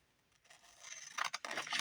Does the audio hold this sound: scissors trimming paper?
yes